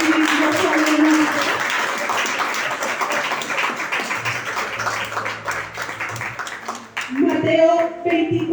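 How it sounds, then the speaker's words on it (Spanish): A church congregation claps for itself during a sermon, a sustained patter of hands for several seconds that thins out toward the end as a voice speaks over it. "Decimos un aplauso para ustedes mismos."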